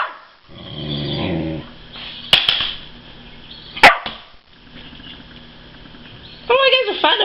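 Two dogs fight over a toy, snarling and growling with a few sharp barks and yelps breaking through, close and fairly loud, with a person's voice intermittently over the scuffle.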